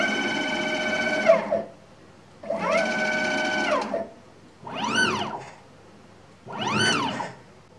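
A NEMA 34 closed-loop stepper motor with encoder runs at speed 8800, giving loud, rising and falling tonal whines in four separate bursts with short pauses between them.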